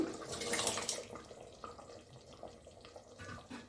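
Water runs and splashes steadily into a pot of boiling lentils for sambar, louder at first and then settling into a softer continuous trickle.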